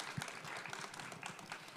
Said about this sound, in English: And please give them a very big round of applause.